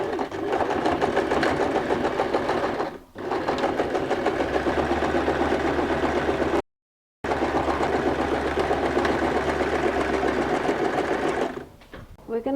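A sewing machine runs a long straight seam on a denim jean bag, a steady fast mechanical whir with rapid needle rhythm, near and loud, briefly pausing around the middle before resuming.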